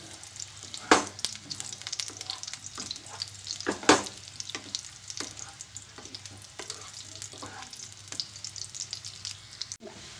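Besan laddus fry in oil in a pan with a steady sizzle. A spoon stirs and scrapes the pan, making occasional sharp clinks, close and alone without any talk.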